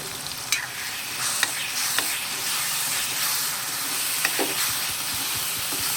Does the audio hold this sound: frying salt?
yes